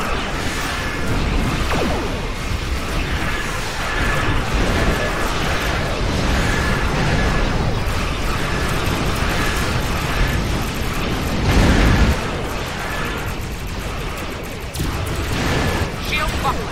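Weapons fire in the space combat game Star Trek Online, with continuous booming blasts, whooshes and bursts layered over a dense rumble, while voices talk through much of it.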